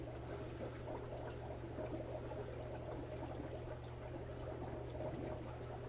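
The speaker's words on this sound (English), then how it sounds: "Now I can hear the water filling this up" Water runs steadily into a SunSun aquarium filter, a faint continuous trickle over a low hum with no pauses.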